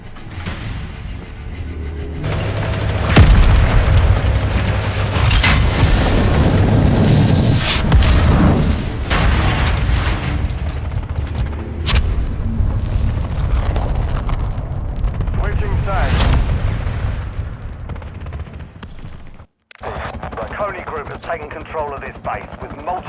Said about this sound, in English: missiles have been launched